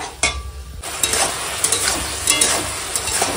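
Tomato chutney with raisins, cashews and mango leather sizzles in a pan while a spoon stirs it gently, giving close scraping strokes and soft clicks over a steady frying hiss.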